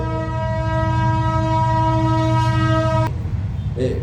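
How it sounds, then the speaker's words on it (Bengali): A train horn blares as one steady, loud, harmonic tone for about three seconds over a low rumble, then cuts off abruptly. Fainter rail noise follows. "ট্রেন কি 5-10 মিনিট পর করে আসা যাওয়া করে নাকি?"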